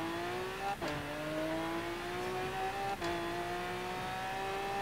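Lamborghini Aventador engine revving in Forza Horizon 3, a loud sustained drone with pitch climbing steadily and two sharp gear-shift breaks, with no talk over it.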